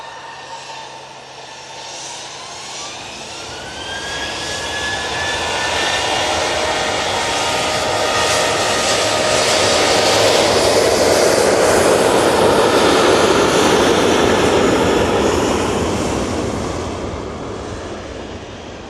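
Ryanair jet airliner at Manchester Airport, a broad roaring engine rumble with a rising whine that swells to a loud peak midway and holds steady as the plane passes close by.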